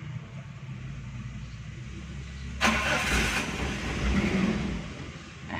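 Cold start of a carburetted Daihatsu Espass engine: a steady low rumble runs until a loud burst near the middle as the engine catches, then it keeps running rough and loud on its own.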